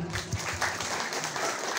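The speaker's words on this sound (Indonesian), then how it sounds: "Tepuk tangan nih buat panitia." An audience at a religious community gathering applauds the organizing committee, a moderate, steady wash of many hands clapping with a few louder individual claps near the start.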